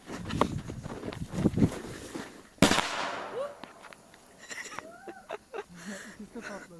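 A loud bang from firecrackers buried in soil bursts out partway through, following earlier crackling pops, with excited voices shouting and chattering around it.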